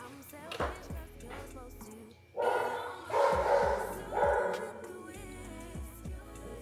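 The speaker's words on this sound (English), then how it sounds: "my dog is barking" A pet dog barks repeatedly nearby in uneven bursts, some single sharp barks and some clustered, inside a home.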